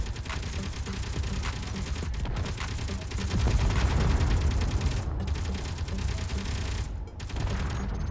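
Gun turrets firing in the space game Space Engineers, rapid continuous automatic bursts with a mechanical rattle, loud and close, broken by a few short pauses.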